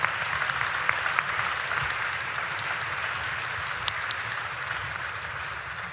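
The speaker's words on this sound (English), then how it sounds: "round of applause there, thank you so much" Audience at an Estoril Conferences panel debate on peace in Europe applauding, sustained clapping from a large crowd at steady loudness, tapering slightly at the end.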